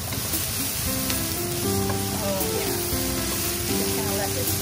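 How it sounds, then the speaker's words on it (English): Carrots and peppers sautéing in a pan give a steady, close sizzle with a bright hiss across the whole clip, joined by soft clinks and tonal hum underneath. "Saute until the carrots have softened up."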